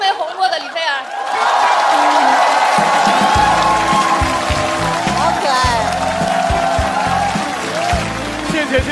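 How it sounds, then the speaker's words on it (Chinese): Audience applause and cheering at a stand-up comedy show, rising to a loud, sustained clatter of clapping from a large crowd after a brief bit of talk at the start. "掌声送给李菲儿"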